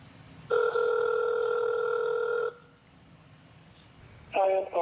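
A telephone ringback tone on an outgoing call sounds twice, a long steady buzzing ring followed by a pause and the start of another, loud and close, with no speech over it.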